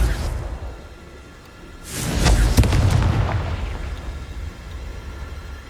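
A fiery blast from the Confringo spell in Hogwarts Legacy bursts out with a whooshing roar and a deep boom that fades slowly into rumbling.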